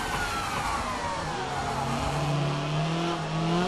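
A rally car in WRC 3 accelerates into a hairpin and pulls a handbrake turn, its engine note rising steadily in a continuous, moderately loud game-engine drone.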